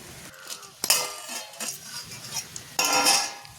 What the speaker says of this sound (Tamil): கரண்டியால் துளாவப்படும் பாருங்க. இந்த கரண்டியை வச்சு துளாவுறதால சிப்பிக்கு இருந்து சதை புறம்பாக வரும்